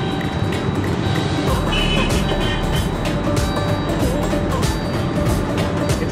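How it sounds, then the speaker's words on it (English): Steady road roar from a car on a highway in pursuit of a Mercedes C-Class, loud and continuous wind and tire noise with a thin high tone over it and no talking. "Chasing a Mercedes C-Class on the highway."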